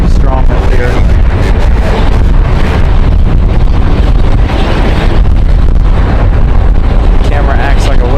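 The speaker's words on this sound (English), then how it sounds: "the wind very, very strong up here" Strong wind buffets the microphone at an airport plane-spotting spot, a loud, continuous rumbling roar with gusty surges and no let-up.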